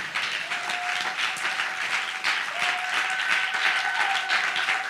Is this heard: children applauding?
yes